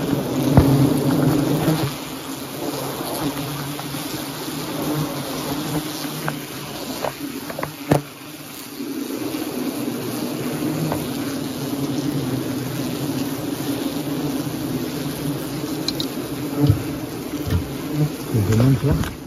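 A dense, steady buzzing of many German wasps at their nest fills the air close by, with occasional louder passes and clicks, and no talking.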